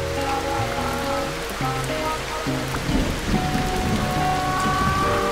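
Rain in the video game Stick it to The Man, a steady wash of falling rain with scattered drops over a layered musical score, continuous and fairly loud throughout with a slight swell midway.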